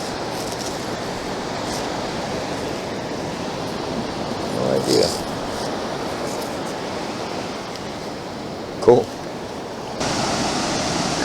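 Big ocean waves roll and break offshore in a steady, distant wash of surf, with a few short bumps of nearby handling noise and people talking over it.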